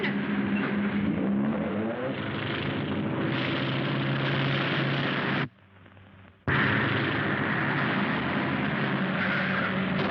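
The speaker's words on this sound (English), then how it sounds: "There's the plane." A propeller plane drones overhead in a 1938 film soundtrack set in Africa, a steady loud engine hum that cuts out briefly midway and then returns at full strength.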